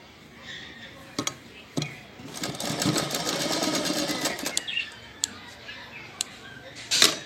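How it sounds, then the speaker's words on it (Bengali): A sewing machine stitches the shoulder seam of a Spider-Man costume in one steady run of rapid clatter lasting a few seconds, framed by clicks and handling sounds, with no talking. "এবার এই দিকের কাঁধটাও সেলাই করে নিচ্ছি।"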